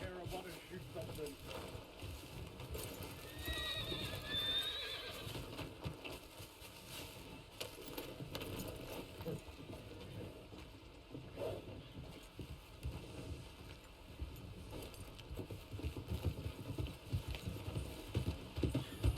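A horse in the Red Dead video game walks with soft, rhythmic clip-clopping hooves, quiet and distant, with a brief high whinny early on over faint wind.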